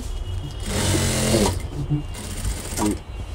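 A sewing machine stitches a rubber waistband onto a school pant in one brief loud burst of rapid needle chatter, then slows and stops, with a voice talking around it.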